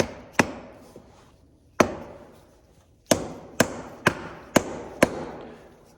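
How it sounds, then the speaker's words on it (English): Sharp plastic hammer taps strike a hubcap, a few spaced blows then a quicker run of four or five, each with a short ringing decay. "I always put these here on with a plastic hammer."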